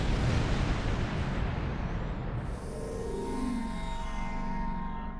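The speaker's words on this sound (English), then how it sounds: "All those torpedoes away!" Torpedo volleys launched from a starship in the space combat game Star Trek Online, a dense roaring barrage of booming blasts and rumbling detonations that runs loud and continuous throughout.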